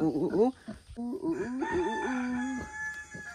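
A rooster crows loudly and near, its drawn-out call rising and falling, followed by some clucking.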